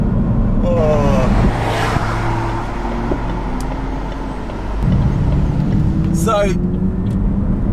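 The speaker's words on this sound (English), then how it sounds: "as you begin to accelerate, you've got the noise behind you, you can hear the whistling of the turbos" McLaren 570GT accelerating with its engine behind the cabin, a rising drone and rushing road noise heard from inside, with a turbo whistle climbing near the end while someone talks over it.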